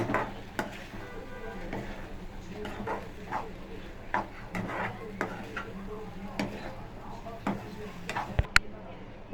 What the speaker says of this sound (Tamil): நல்லா கிண்டிக்கணும்.